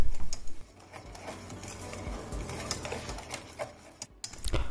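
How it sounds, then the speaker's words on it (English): Dry ingredients for banana bread, including bicarbonate of soda, sugar and cinnamon, being mixed in a bowl: a steady run of close, quick tapping and scraping strokes, with a few louder knocks toward the end. "Then you mix the dry ingredients."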